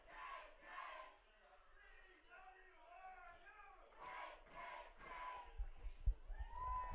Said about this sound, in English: The CWRU case cheer